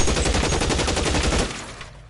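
Sustained volley of gunfire in the L.A. Noire video game from men shooting out of cover, a dense rattle of rapid shots and bursts that fills the clip loudly before cutting off near the end.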